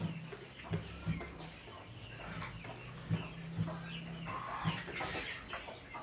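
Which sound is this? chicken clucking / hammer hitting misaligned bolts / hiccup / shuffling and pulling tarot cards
chicken clucking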